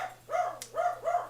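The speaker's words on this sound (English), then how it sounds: "my dog is now barking" A dog barks three times in a steady rhythm, moderately loud and fairly close, with no talk over it and a faint low hum underneath.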